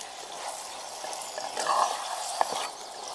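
Chicken gongura curry being stirred in a clay pot over a village fire, soft scraping and wet stirring over a quiet sizzle, with a couple of brief clinks near the middle and no voice.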